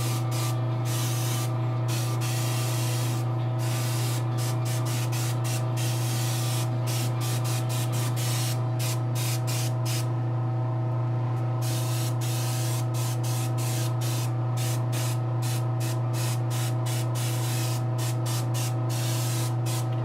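An airbrush or spray gun hisses while paint goes onto a Giganta figure, a steady, close hiss broken by many short on-off bursts, under a constant compressor hum.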